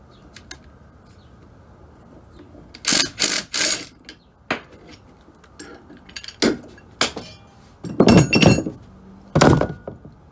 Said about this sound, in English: That's how you remove all the bushings from these JBA upper control arms